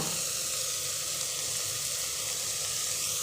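Coarse chili, ginger, garlic and cumin paste with turmeric sautéing in a pan before broken wheat goes in, a continuous close, loud sizzle with no pauses or talk.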